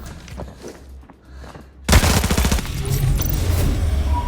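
A few faint distant shots, then a sudden loud burst of rapid automatic M4A1 rifle fire in the video game Arena Breakout that keeps rattling steadily to the end.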